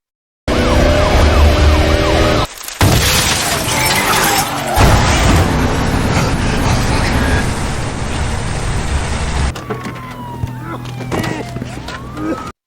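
A police car siren wails loudly and continuously during a film car chase as a van flees, with engine roar and crashes mixed in, a brief cut-out near the start and a quieter tail at the end.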